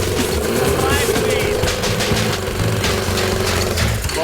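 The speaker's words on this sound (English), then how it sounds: "The only thing they can do is run the engine to see if it will allow them to shift." Motorbike engine stuck in first gear on a junkyard-built climbing car, running steadily and loudly with a rough, buzzing drone throughout, voices faintly audible underneath.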